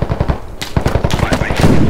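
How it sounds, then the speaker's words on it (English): Mortar impacts and rapid gunfire in the military shooter Squad, with repeated sharp automatic bursts and heavier thumps running steadily through the short stretch, loud and close, with no talking. "Those mortars are landing well short."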